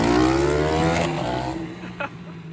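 A cheap, restored 150cc motocross bike engine runs close by with a buzzing, harmonic drone that rises and falls with revs, then settles into a rough idle.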